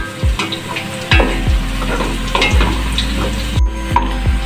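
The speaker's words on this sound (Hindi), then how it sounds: "इन सबको अच्छे से मिक्स करना है ताकि प्याज के साथ फ्राई हो जाए" Steady oil sizzle with rhythmic scraping stirs every second or so, up close, as spices fry with onions in a pan for chana pulao.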